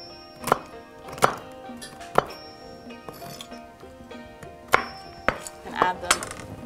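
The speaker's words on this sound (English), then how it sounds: "Then we're gonna cut up the remaining cashew nuts." Knife striking a cutting board while cashew nuts are chopped for a Thai som tam topping, a handful of sharp, separate clicking knocks with small clinks between, close and alone with no talk.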